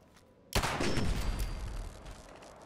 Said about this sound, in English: I can see this guy shooting me